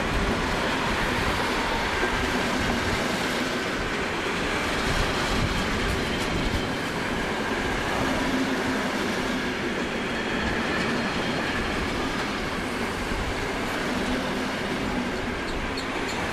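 A multiple-unit stopping train arriving from Roermond at Sittard rumbles past steadily with continuous rolling wheel noise and faint rhythmic clatter, loud and close throughout.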